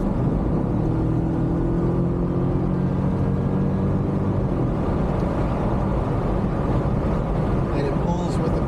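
A 1987 Mercedes-Benz 560SEL on a farm road, heard from inside the cabin: a steady engine rumble and road drone, with the engine tone shifting partway through as it drops into gear.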